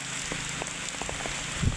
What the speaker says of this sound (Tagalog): Lakas ng ulan dito na inabot ako dito sa may Montesilio.